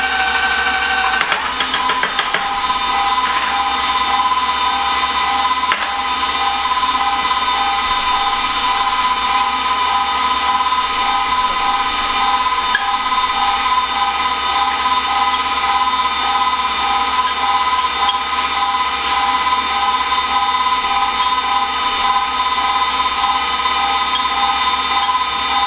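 An electric meat grinder runs steadily, grinding pork butt into sausage through a smaller extruder on speed setting 4, a constant loud motor whine and hum with no pauses and no talk.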